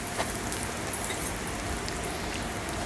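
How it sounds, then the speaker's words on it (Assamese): Chopped onions frying in a pan of hot oil with panch phoron, the start of an Assamese-style mutton curry; a steady, dense sizzle runs evenly throughout with no voices. "পিঁয়াজখিনি এতিয়া ভালদৰে ভাজি ল'ম।"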